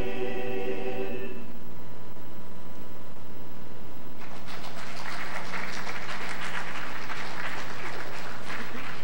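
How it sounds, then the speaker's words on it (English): After a sung note fades, an audience at a live community telethon breaks into sustained applause, steady clapping filling the room for several seconds. "Let's have one more round of applause"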